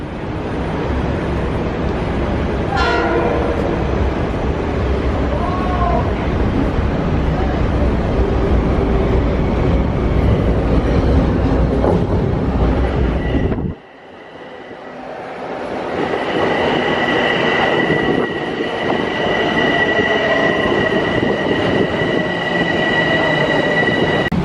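A New York City subway train rumbles along loudly with clattering wheels, then the noise drops out briefly before the rolling roar returns with high whining tones.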